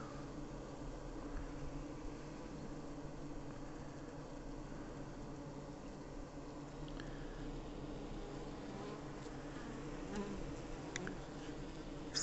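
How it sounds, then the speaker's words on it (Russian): A large honeybee swarm drones in a steady, continuous buzz throughout, with individual bees occasionally passing closer over the even hum. "Рой большой."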